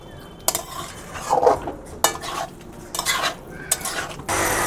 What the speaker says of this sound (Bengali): এঁচোড়গুলো এই মশলার সঙ্গে আমি একটু কষিয়ে নেব।